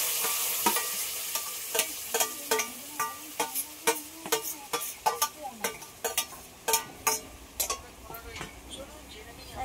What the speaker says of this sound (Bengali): এই গ্রেট করে রাখা আমটা কড়ার মধ্যে দিয়ে দেবো।